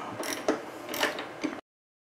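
A ratchet loosens the mounting nuts on a Harley-Davidson detachable Tour-Pak, giving a few short clicking bursts close by with no talk, then cutting to silence.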